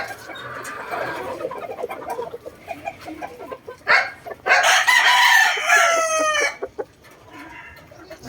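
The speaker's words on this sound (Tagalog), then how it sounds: "Ang gaganda rin ng manok dito." Boston Roundhead gamefowl roosters crow loudly and close by, several overlapping crows rising and trailing off, with scattered clucking and outdoor yard noise beforehand.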